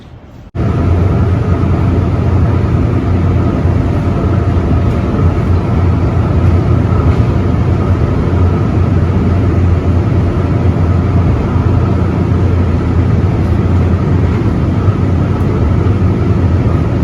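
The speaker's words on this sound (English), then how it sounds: "I'm waiting for the train right now. They should be here soon." A transit train pulling into a station, a loud sustained rumbling roar that starts abruptly after a moment of quiet and stays steady and close throughout, with no voices.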